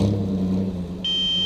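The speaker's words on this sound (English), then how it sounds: "Oh, the car is driving away" A rally car's low engine rumble fades as it pulls away, then a steady high-pitched electronic beep starts and keeps sounding.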